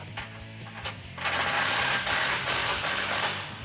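A 19mm wrench tightens bolts with a skid washer on a M.O.R.E. oil and transmission skid plate under a Jeep Wrangler JK, giving a close mechanical whirring and ratcheting. The sound swells louder after about a second and continues steadily, with no one talking.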